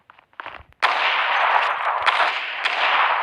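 Sniper rifle fire in the shooter game Zula mobile: a few soft clicks and taps, then a sudden sharp report that rings out into a sustained noisy blast with further cracks layered on top.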